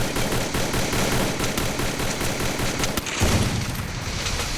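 Dense rapid sniper rifle and automatic gunfire from a video game firefight, loud and continuous with a heavier blast near the end, no voices over it.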